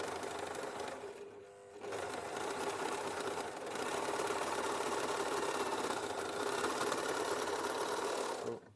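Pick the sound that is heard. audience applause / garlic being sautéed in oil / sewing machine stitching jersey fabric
sewing machine stitching jersey fabric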